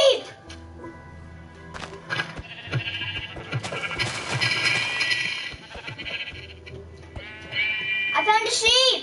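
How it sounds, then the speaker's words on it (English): Sheep bleating in a video game, several wavering bleats amid game sounds, with someone talking excitedly over them and a final loud bleat near the end. "I found a sheep!"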